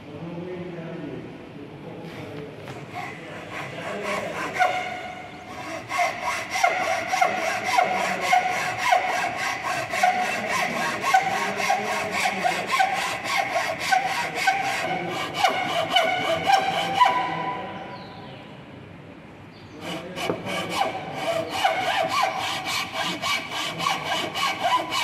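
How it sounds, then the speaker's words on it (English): A hacksaw cuts through a piece of wood at a carpentry workbench. It makes rapid, rhythmic rasping strokes, close and fairly loud, with a short pause near the end before the sawing starts again. "With the help of hacksaw, we just cut it out,"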